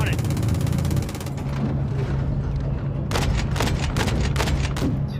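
A missile strike and gunfire in Call of Duty MW3 make a loud, dense, continuous battle din with a low rumbling boom, followed by bursts of rapid automatic fire. Game voices talk throughout.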